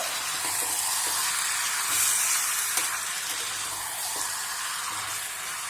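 Chicken pieces sizzling in a frying pan while being stirred, a continuous close hiss of frying with occasional soft scrapes and clicks of the spoon, no talking.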